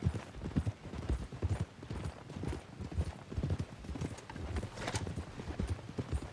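Horse hooves clip-clop steadily in Red Dead Redemption 2, a continuous close rhythmic trotting with occasional faint whinnies, no talking.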